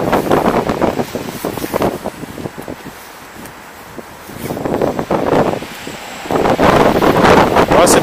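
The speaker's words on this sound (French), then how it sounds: "Un petit peu de vent en plus." Wind gusts outdoors near a tree, buffeting the microphone in loud waves that rise, fade and swell again, with leaves rustling and no one speaking.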